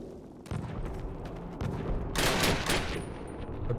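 Squad gunfire in the video game Call of Duty (2003), overlapping rifle and machine-gun shots crackling nearby, building louder over a few seconds.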